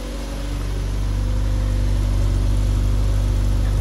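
A supercharged MG 1500 engine runs steadily after starting, a close, even mechanical hum and low rumble with no voices.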